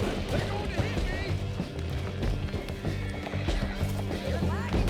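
Galloping horse hooves and whinnies in a busy Red Dead Redemption 2 soundscape, mixed with music and shouting voices throughout.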